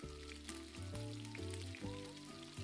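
Pork belly brushed with baijiu and honey frying in hot oil, a close, busy sizzle with crackling pops over a low background hum, no talk.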